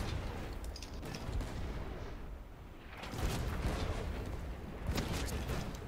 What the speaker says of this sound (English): I'm doing the low cannons.